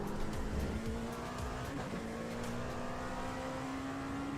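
A race car in the iRacing simulator slides through lift-off oversteer, its engine droning steadily with a faint tire squeal and a shifting pitch, continuous and fairly quiet throughout with no voices.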